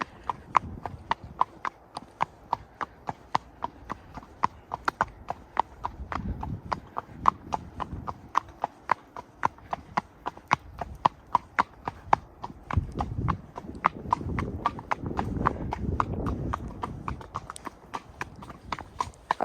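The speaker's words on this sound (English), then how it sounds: "we'll give you some more satisfying hoof content" Horse hooves clip-clopping on a quiet road, sharp, evenly spaced hoofbeats at a steady walking rhythm, close and clear, with low rustling and tack noise between the strikes.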